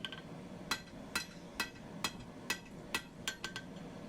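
Regular metallic blows of a 2.5-pound hammer on hot steel while forging a punch, ringing out one after another, about nine strikes at a slow, steady pace.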